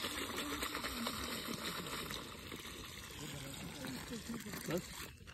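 Water is poured onto trees from a container, giving a continuous trickling splash at moderate distance, with people talking nearby and ambient outdoor noise.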